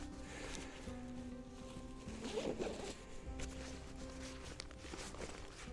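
A zipper being pulled, with a short rasping burst in the middle, over a steady low background hum.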